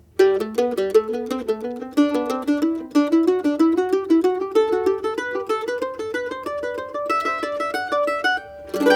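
A mandolin plays a folded scale, a quick run of plucked notes climbing steadily in a zigzag pattern, bright and close, with no voices.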